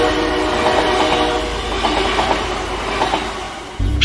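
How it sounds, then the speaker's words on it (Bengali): A train rushes past at high speed: a loud, sustained rumble of wheels and wagons with tonal horn-like notes on top, ending abruptly in a low thud. "প্রচণ্ড গতিতে পেরিয়ে যাওয়া ট্রেনের শব্দ পেলাম।"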